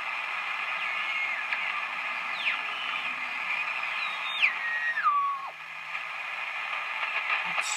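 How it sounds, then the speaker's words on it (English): Band noise and static from a Hallicrafters SX-100 shortwave receiver tuned to 40 meters, a steady hiss with a few whistling tones sweeping down as the dial moves. "I have quite a high noise level here, as you can see on the S meter"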